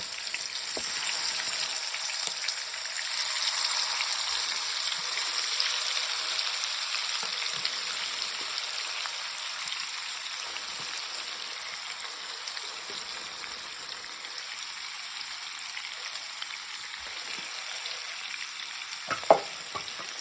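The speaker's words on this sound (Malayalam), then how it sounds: "ഇതിൽ ചിക്കൻ പീസ് ഇട്ടിട്ട് വറുത്ത് പോരാം" Chicken pieces for biryani fry steadily in hot oil, a continuous close sizzle with a brief stir clatter near the end, no voices.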